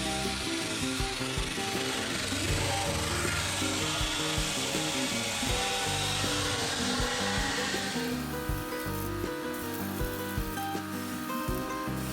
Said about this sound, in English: look at how quickly it's grinding through all of that rust